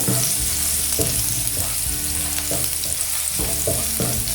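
Garlic frying in one tablespoon of cooking oil in a pan, a steady loud sizzle with repeated stirring scrapes and clacks every second or so, close up with no talk.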